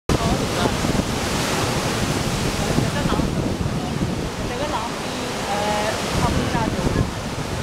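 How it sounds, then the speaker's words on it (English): Ocean waves break on a Hawaii beach, a continuous loud roar of surf with heavy wind rumble across the microphone, the churning wash sustained throughout with no voices heard. "Now the waves are getting stronger than Hapuna."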